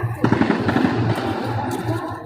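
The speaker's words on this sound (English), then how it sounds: "There's literally like machine guns." Machine guns fire in a video game while the player explores an explosive city: a close, rapid rattling burst of gunfire that trails off into a softer mix of distant shots and game ambience.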